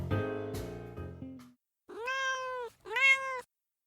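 A cat meows twice, two clear drawn-out calls close to the mic, following a brief whistling tea kettle at the start.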